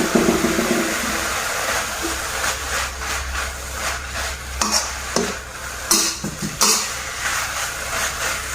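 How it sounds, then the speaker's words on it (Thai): Red ants are dry-roasted in a pan and stirred, producing a constant rough sizzling hiss broken by sharper scraping and rattling strokes from the stirring utensil, fairly loud and close. "เราจะคั่วมดแดงให้แห้งนะคะ"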